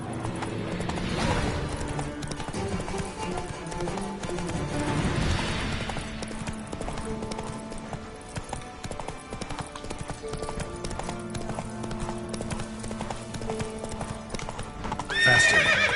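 Roach the horse galloping in The Witcher 3, rapid clip-clop hoofbeats carrying steadily over a game soundscape, with a whinny near the end.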